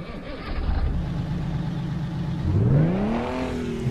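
A Kenworth W900A truck engine with a Detroit Diesel in American Truck Simulator revs up, a steady rumbling drone rising into a climbing whine as it screams through the gears, loud and close.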